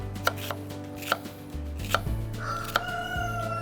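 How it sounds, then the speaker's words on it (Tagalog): A knife chops onions on a board in the kitchen, with sharp, evenly spaced cuts about every second, sounding close and loud. A rooster crows faintly in the background. "So chop our onions."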